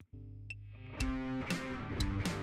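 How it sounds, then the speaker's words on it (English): Distorted, buzzy synth tones with a gritty edge, building as sharp bright hits punch in roughly every half second over a sustained harmonic drone. "I kind of want that distortion noise to be in there a little bit"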